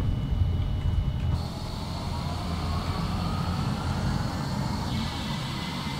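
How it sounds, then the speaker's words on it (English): Airliner engines in the Prepar3D flight simulator spool up together, a steady broad roar with a rising tone that shifts partway through, continuous and fairly loud with no talking. "let's get both engines started at the same time."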